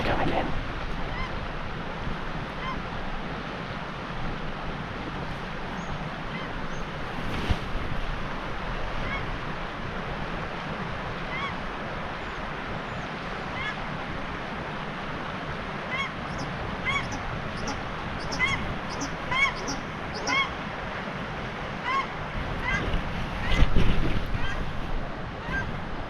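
Birds squawk and honk while flying to roost at dusk during a hunt, scattered calls rising over steady outdoor noise and growing busier toward the end.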